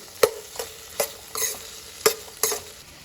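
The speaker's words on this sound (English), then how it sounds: "These have to be sauteed on a very low heat" Fried basket noodles are sautéed in a pan over very low heat, with a soft sizzle beneath about half a dozen sharp scraping and stirring strokes at an uneven pace, close up and with no talk.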